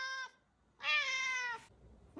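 A cat meows twice up close: a short cry, a pause, then a longer drawn-out meow, with quiet in between.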